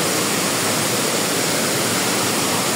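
A waterfall stream on the Sankhu to Nagarkot hiking trail roars in a loud, constant hiss of falling water, close by and unbroken throughout.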